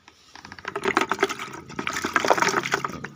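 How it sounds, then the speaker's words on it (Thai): Water pours into a container while spraying hormone on Monthong durian, a bright splashing gush that starts after a brief pause and runs unbroken for a few seconds, close up, with no talking. "เทน้ำใส่เข้าไปนะครับ"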